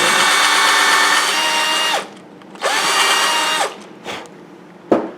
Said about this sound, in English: This is an 1/8 inch drill